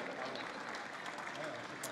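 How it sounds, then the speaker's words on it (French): Applause from the audience for amateur winners at a chocolate contest prize ceremony, a quiet, distant, continuous patter of clapping with a murmuring crowd and some voices mixed in. "on peut les applaudir encore une fois bien fort"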